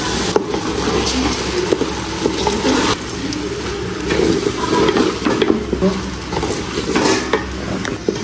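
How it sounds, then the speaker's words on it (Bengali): Rice and mixed vegetables fry together in a pan for a breakfast vegetable khichuri, with steady sizzling and repeated scraping and clinking of a utensil against the metal close by. "এই যে চালটা, সবজিটা একসাথে ভেজে নিলাম।"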